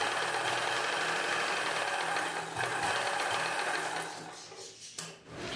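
A sewing machine stitches a cross-cut blouse seam in a long steady run, its fast mechanical rhythm loud and close, then eases off and halts in the last second or so.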